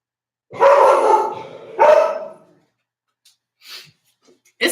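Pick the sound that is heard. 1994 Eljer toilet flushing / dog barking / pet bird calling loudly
dog barking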